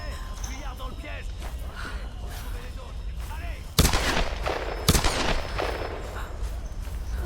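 Gunfire in the Tomb Raider video game: two sharp, loud shots about a second apart cut through steady game ambience, with a player talking over the scene.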